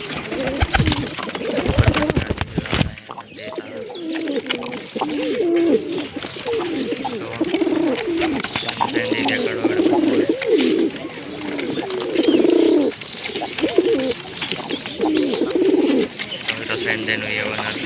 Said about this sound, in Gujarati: આપણા કબૂતર બધા રમે છે